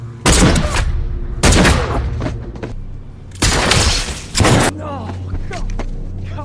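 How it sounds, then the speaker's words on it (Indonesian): Gunfire in a film shootout, several heavy booming shots in bursts with long echoing tails, loud and close, with a low rumbling score underneath. "terjadi aksi baku tembak sengit antara Nicholas dan David"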